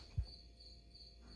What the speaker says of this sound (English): there's that damn cricket that was making the noise